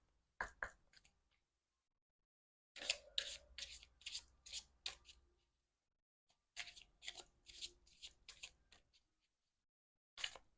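Tarot cards are shuffled in three quiet, close bursts of rapid riffling and flicking, separated by stretches of near silence.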